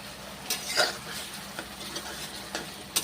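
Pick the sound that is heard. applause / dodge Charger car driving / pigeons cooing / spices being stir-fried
spices being stir-fried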